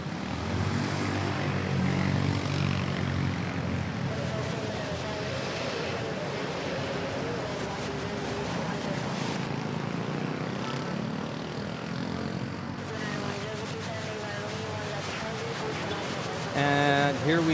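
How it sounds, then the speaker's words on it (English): A Cebu Pacific airliner arriving from Caticlan touches down on the runway at Manila Airport, a loud, steady engine roar sustained throughout with faint radio-style talk layered underneath. "Cebu Pacific 9010 from Katiklan. Touching down."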